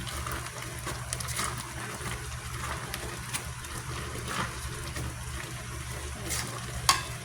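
Mung beans for ginisang mongo sizzle softly in a pan, stirred now and then with faint scrapes and clinks over a steady low hiss.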